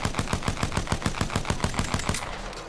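Rapid semi-automatic shots from a P2020 pistol in Apex Legends, about a dozen crisp evenly spaced reports in quick succession, loud and close, trailing off into a brief quieter tail.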